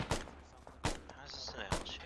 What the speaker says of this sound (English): They're shooting there, and they're shooting over there.